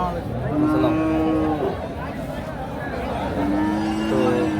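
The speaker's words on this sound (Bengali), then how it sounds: "আজকে বকন গরুগুলোই দেখাবো আপনাদের" Cattle low with long, drawn-out moos, one early and another later, over a steady hum of crowd chatter at a busy outdoor livestock market in Shariatpur district, Bangladesh.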